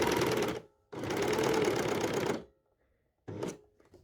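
An overlocker serger runs in three fast, loud whirring bursts as it stitches the seams of a T-shirt, with short silent pauses between runs.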